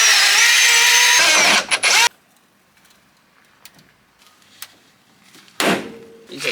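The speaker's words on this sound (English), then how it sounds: "So I'm just going to drill these out and put new nutsets in them." A loud power drill whines steadily for about two seconds while drilling out a snapped bolt on a Nissan R34 Skyline's guard, stops, then after a quiet pause kicks in again briefly near the end.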